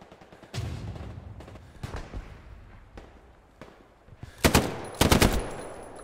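Gunfire in the WW2 shooter Hell Let Loose: scattered sharp rifle cracks early on, then two loud close bursts of rapid automatic fire near the end, over faint battlefield ambience.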